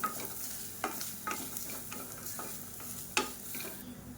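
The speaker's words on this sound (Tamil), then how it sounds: "இதையும் சேர்த்து நல்லா வறுத்துக்கலாம்." Soft sizzling of grated coconut frying in a pan with a spoon scraping and stirring at irregular intervals, steady and close, no voices.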